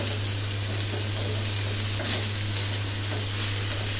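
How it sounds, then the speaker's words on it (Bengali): Rice fries in a pan over medium heat with a dense, steady sizzle and soft stirring scrapes. A constant low hum runs underneath, and no one speaks. "এই চালটা একটু ভালো মতন ভেজে নিতে হবে"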